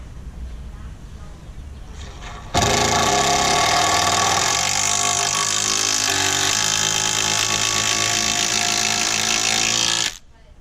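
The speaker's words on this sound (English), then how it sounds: "cool thing about the impact driver is it's going to put a lot of torque behind this bolt" An impact driver drives a long bolt into a wooden raised bed, a loud, continuous rattling hammer-whir that starts abruptly and runs for about eight seconds before stopping, preceded by brief quiet background sound.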